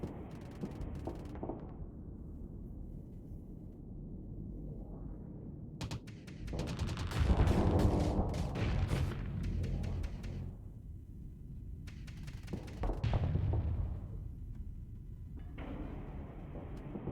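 Auto pulse laser weapons firing in the space game Starsector, bursts of rapid crackling shots and heavier blasts that swell and fade in several loud volleys over a rumbling low background, with no talking.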